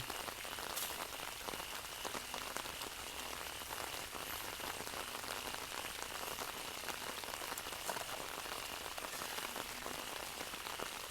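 Steady rain falls for the whole stretch, a dense even patter of drops on surfaces with no voices.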